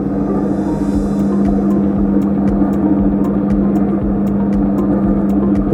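A SMARTWIND 360° three-spindle winding machine for 20-inch wound filter cartridges runs with a loud, constant droning hum and a regular series of light ticks on top.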